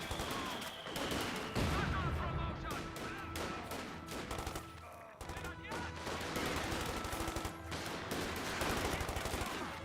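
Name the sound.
machine gun fire in Company of Heroes 2 video game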